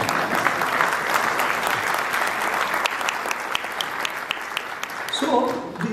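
Audience applause at an inaugural speech, a steady sustained clapping from a crowd that fills the room loudly and evenly before tapering off at the end.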